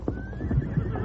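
A horse whinnies in a radio drama scene at a hitch rack outside a general store, the neigh rising clearly near the start, followed by a few soft hoof clops on the ground.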